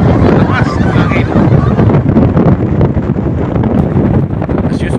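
Strong wind roars over a fishing boat at sea, a loud, continuous buffeting rush with heavy microphone wind noise throughout.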